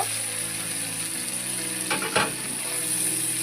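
Vegetables fry in a pan in a village kitchen, a steady close sizzle with a short burst of clatter midway, no voices.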